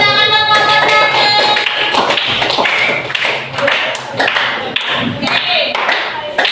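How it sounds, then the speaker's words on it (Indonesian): A burst of clapping from a group, uneven and lively, mixed with voices and a few thumps, fading a little midway before picking up again. "Tepuk tangan dong, Pak Hasan."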